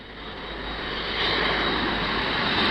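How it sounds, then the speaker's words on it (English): A Hawker Siddeley Trident jet airliner's engines give a broad, loud roar that swells steadily, a continuous rushing drone with no talking. "Many other aircraft have been tried and proved, like the famous Trident."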